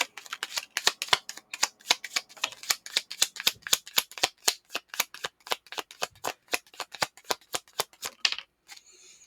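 Tarot cards being shuffled in a steady rapid riffle of crisp slaps for about eight seconds, close and fairly loud, ending abruptly as a card flies out, with no talking.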